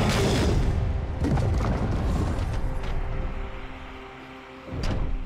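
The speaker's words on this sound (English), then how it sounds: "Blue team's turret has been destroyed." Deep booming crashes and rumbling from a League of Legends match mark a turret being destroyed, loud and continuous, with a sharper burst near the end.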